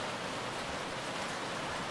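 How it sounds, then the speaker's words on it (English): Steady, soft rain hiss from Minecraft, a fine even patter with no other sounds, quiet and continuous throughout the short stretch. "it's springtime, so we're dealing with rain"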